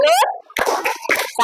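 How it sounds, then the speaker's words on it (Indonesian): A classroom group breaks into a short salute clap, a few sharp bursts of hand claps with voices speaking and calling out between them. "kita kasih tepuk salut dulu yuk"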